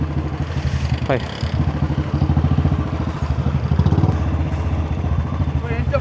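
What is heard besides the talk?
motorcycles riding at auto expo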